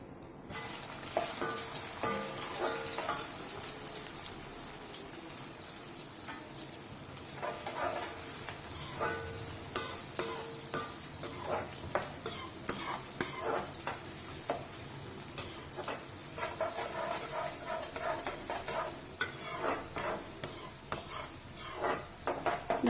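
Chopped onions fry in a pan for vegetable semiya biryani, a continuous close sizzle broken by repeated scraping and stirring strokes of a spoon against the pan.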